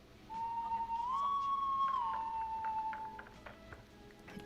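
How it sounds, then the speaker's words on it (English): A single clear whistled tone rises and falls in a short melodic phrase in the video game Killer Frequency, heard alone over a faint background. "I hear whistling."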